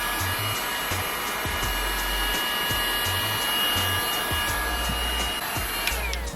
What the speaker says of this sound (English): I'll take my heat gun